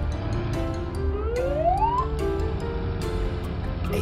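Toy ambulance siren gives a single rising wail sweep over a constant mechanical background drone, close and unaccompanied by speech.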